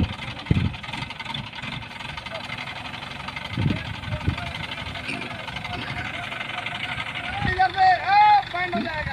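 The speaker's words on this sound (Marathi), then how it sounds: "क्रेनच्या साहाय्याने जे ट्रॅक्टर आहे त्याची दिशा या ठिकाणी बदलतात" Crane engine idling and revving while a tractor head is turned around at railway station construction works, a steady mid-pitched drone with occasional louder knocks and surges, heard under ongoing talk.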